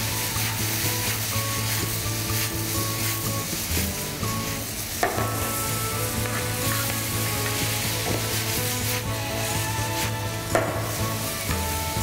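Ingredients are stirred into a hot sizzling pan, with a continuous frying hiss, scraping and stirring strokes, and a couple of sharper utensil knocks against the pan, with no talking.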